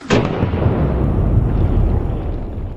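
Gunshot from a rifle firing a homemade lead bullet of 78 hundredths of an ounce into concrete blocks: one sharp, loud blast at the start followed by a long, dense rumbling decay with debris noise and no talk.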